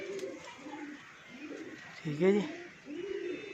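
A pigeon coos nearby in soft, repeated throaty phrases, with a voice briefly speaking over one of the calls.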